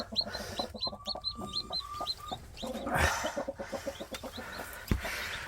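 A hen and her newly hatched chicks are moved, giving a series of close soft clucks and high, rapid peeping chirps, with a few handling knocks and rustles in between.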